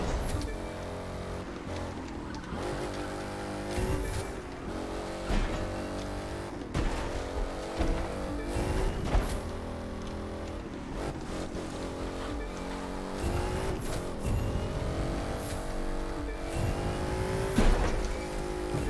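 Monster truck engine in The Crew 2 racing game revving and roaring continuously, with surges of acceleration and occasional thumps over a loud, steady drone.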